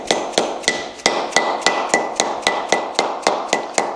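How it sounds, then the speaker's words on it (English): A dead blow hammer taps a wheel bearing into a car or truck hub in a steady series of about a dozen sharp, evenly spaced close strikes, with no talking. "I'll generally put these in with a dead blow hammer or like a plastic face hammer is fine"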